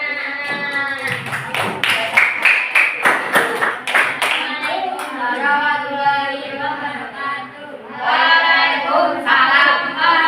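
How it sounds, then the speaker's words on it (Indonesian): Schoolchildren clap their hands together in a classroom, a burst of rapid claps in the first half that gives way to children's voices chanting and calling out. "Oke, tepuk tangan anak-anak."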